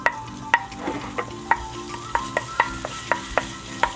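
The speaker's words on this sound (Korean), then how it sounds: "먼저 팬에 기름을 둘러주시고 다진 마늘을 먼저 넣어주세요" Minced garlic frying in an oiled pan, with a utensil stirring and tapping at an irregular, steady pace over a soft continuous sizzle, close and moderately loud, with no talk.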